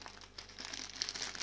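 Plastic packaging crinkles steadily and close up as a Christmas-themed pillowcase is unpacked, with soft rustles and a few sharper crackles. No speech is heard.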